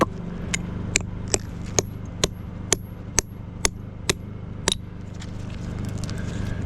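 A hammer strikes a steel feather and wedge set in a drilled hole to split cap rock at a picture stone quarry: about ten sharp metallic blows at a steady, even pace, then they stop over a quiet background.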